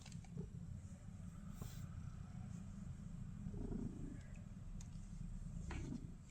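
A pet cat purring close by, a low steady rumbling that runs continuously with slight swells, alone without talk.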